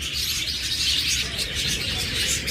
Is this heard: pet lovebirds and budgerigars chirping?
yes